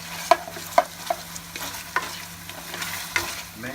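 Chicken pieces stirred with black pepper, white pepper and crushed green chillies in a karahi for highway-style white chicken karahi, sizzling close by with several distinct scraping strokes of a spoon against the pan, no voices.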